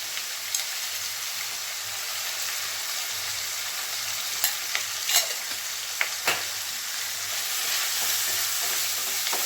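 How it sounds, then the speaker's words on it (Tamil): Tomatoes with curry leaves sizzle steadily in a hot pan, with occasional scraping stirs and clinks of a utensil, close and continuous. "தக்காளி நல்லா வதங்கட்டும்"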